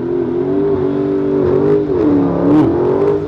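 A blacked-out Dodge Challenger Hellcat accelerates close by, its loud engine drone climbing in pitch, dipping briefly, then rising again over a few seconds.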